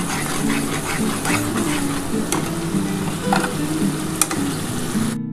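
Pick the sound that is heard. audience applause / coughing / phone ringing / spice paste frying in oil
spice paste frying in oil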